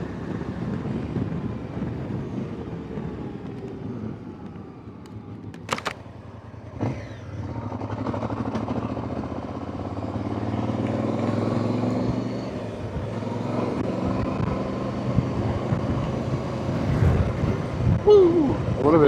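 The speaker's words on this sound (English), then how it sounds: "quite windy that one out in that visor" Wind buffets the microphone in gusty rumbles throughout during a Voge DS625X motorcycle ride, with engine-like droning and occasional voices mixed in.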